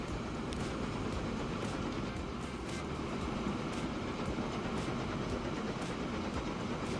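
A train runs along a rail line in the Transport Fever 2 building game. A steady rumble carries rhythmic clickety-clack over the rails, holding at a constant level throughout with no speech.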